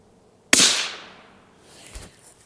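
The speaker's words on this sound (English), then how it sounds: "Even suppressed with the supersonic crack, it's going to make a good bit of noise." A single sharp supersonic crack from a suppressed Ruger Precision Rimfire rifle in 17 HMR firing a 20 grain round outdoors, loud and sudden with a decaying tail and a faint later thump.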